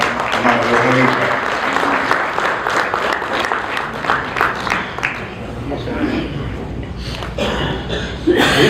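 Hands clap warmly as an audience at a book launch event in Houston welcomes a guest: a sustained ripple of applause with a few chuckles, while someone talks over it.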